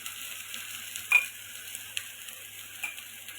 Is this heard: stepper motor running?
no